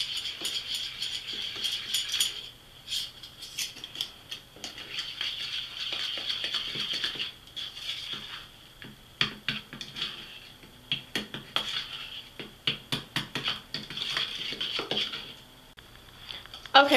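A utensil stirs and taps a cucumber and baking soda face scrub mixture in a bowl, giving irregular clinks, scrapes and quick patters close by, with quieter stretches between bursts.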